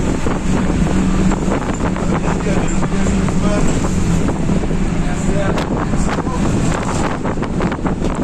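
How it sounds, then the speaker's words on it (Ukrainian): Strong wind buffets the microphone in a constant roar in Mindelo, Cape Verde, with faint voices and a watery wash underneath. "вітер трохи, да?"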